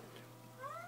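A cat cries from behind a door, a single short, faint rising meow heard muffled at a distance over a low steady hum.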